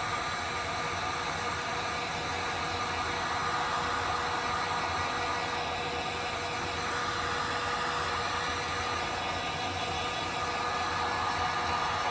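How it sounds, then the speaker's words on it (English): A heat gun blows steadily on a marble candle, a constant loud whooshing fan roar lasting the whole time without pauses or voices. "we're gonna use our heat gun. And you just wanna go to the side of it."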